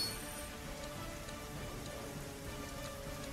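Steady rain falling in the fantasy role-playing game Lords of Xulima, a dense, even patter of drops on surfaces that continues without pause, soft and unbroken with no voices.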